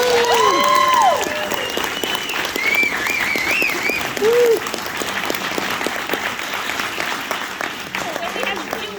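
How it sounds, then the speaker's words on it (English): Audience applause welcoming a former football player at a speaker series at a sports hall of fame, loud at first and then easing, with whistles and cheers mixed in and talk over it. "Round of applause for Vince."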